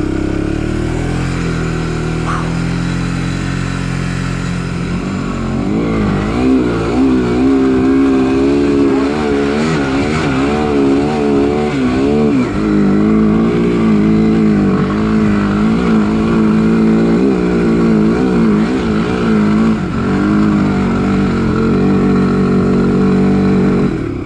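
An ATV climbs through trails in third gear at the Black Mountain ORV area, its engine droning steadily close by and rising and falling with throttle over a long continuous run, with no talk.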